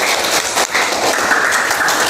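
Loud classroom applause from a group of students after a presentation, a dense, steady wash of clapping that fills the whole moment.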